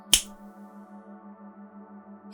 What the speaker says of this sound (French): Parfois ça peut changer en un claquement de doigts.